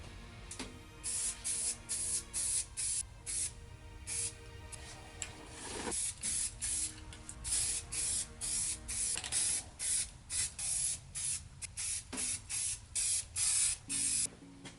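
Spray can of primer coating a Tusken mask mock-up in a garage: a rapid series of short, close, hissing bursts, with a few longer sprays between them.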